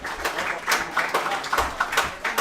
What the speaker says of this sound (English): can we clap it up for women's sports